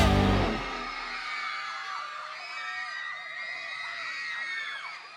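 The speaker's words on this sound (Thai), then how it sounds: "ทุกท่านกรี๊ดดังๆหน่อยนะครับ" A concert crowd of Thai fans at a show screams and cheers loudly in a sustained wash of high-pitched shrieks and whoops, following a brief deep thump at the start.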